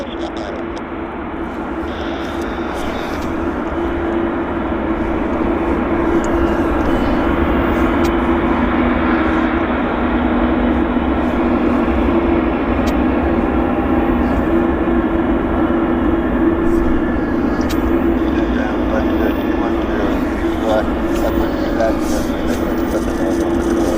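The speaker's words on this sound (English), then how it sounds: "So we got a SkyWest connection Embraer on approach right now." A SkyWest Embraer regional airliner on approach to land at Vancouver airport gives a steady, loud jet roar with a sustained engine hum, rising slightly and holding throughout.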